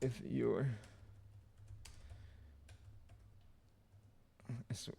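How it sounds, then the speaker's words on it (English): A computer keyboard clicks with scattered, light keystrokes under a quiet room tone, with a voice speaking briefly at the start and again near the end. "Yeah, you can see my typing."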